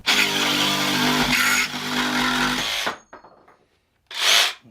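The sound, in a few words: DeWALT 20V Max cordless jig saw cutting square pipe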